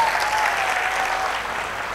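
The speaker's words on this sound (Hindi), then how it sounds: "एक बार तालियां बजा दीजिए इसके लिए जोरदार।" Loud, sustained applause from a large audience at a Maha Shivratri kavi sammelan poetry event in Beawar, a dense steady roar of clapping with no break.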